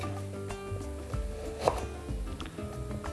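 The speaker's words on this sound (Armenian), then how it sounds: "Բոլոր բաղադրիչները կտրատում ենք նույն կերպ։" A knife chops vegetables such as carrot and onion for rice paper pies, quick light taps on a wooden board with one crisp louder cut, beneath quiet background music.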